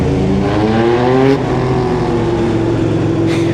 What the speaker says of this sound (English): Well, that pop on the gear change.